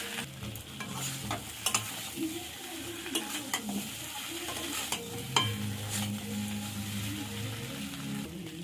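Boiled potatoes being sautéed in a ground masala of ginger, cumin, coriander, garlic, chili and turmeric, with a soft sizzle under frequent clattering spoon strokes against the pan, fairly quiet and free of talk.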